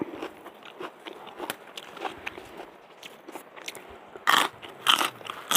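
Someone biting into and chewing freshly picked, crunchy raw snow peas from a home vegetable garden in America, with soft repeated chewing and crackling close to the mic and sharper crunching bites near the end.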